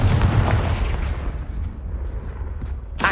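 Spell blasts such as Bombarda and Confringo go off in the Hogwarts Legacy video game, a heavy booming impact at the start that rumbles and fades, then another sharp burst at the end, loud and without speech.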